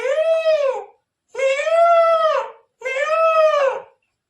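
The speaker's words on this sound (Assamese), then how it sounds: "peacock" A peacock gives three loud, drawn-out wailing calls close by, each lasting about a second with brief pauses between, and no other sounds around them.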